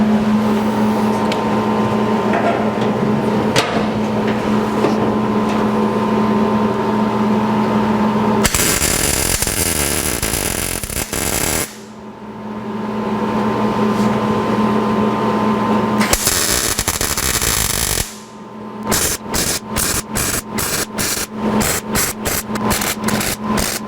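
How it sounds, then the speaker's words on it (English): Welding tubing on a 1949 Chevrolet gasser's sliding tilt front end, with a steady buzzing arc in long passes broken by short gaps, then a rapid run of brief stitch-like bursts near the end, close and loud. "And now we'll weld it in."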